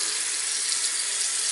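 A bathroom faucet runs steadily, with a constant close hiss of flowing water and no pauses.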